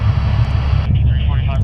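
Helicopter in flight with equipment hanging off it, cruising near 130 knots: a steady, loud low rotor and engine drone fills the whole stretch, with a faint voice over it.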